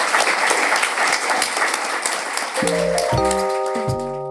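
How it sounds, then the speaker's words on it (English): An audience applauds three speakers at a talks event, a steady close wash of clapping that runs throughout while a bright electronic chime melody enters partway through and plays over it. "Can I please get a round of applause for our three speakers?"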